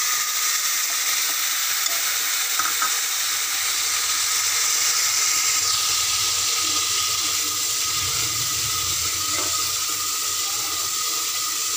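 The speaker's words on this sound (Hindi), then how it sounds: "टमाटर और हरी मिर्च को हमें अच्छे से भून लेना है" Tomatoes and green chillies fry in a pan with cumin, a continuous close hiss of sizzling oil with occasional soft stirring scrapes and no talking.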